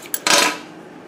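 Scissors snip through crochet yarn, with two quick, crisp cuts close by in an otherwise quiet moment.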